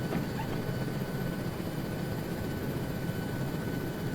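A helicopter in the Arma 3 military video game comes down on autorotation to land, with a steady, unbroken rotor and engine drone filling the moment and no speech.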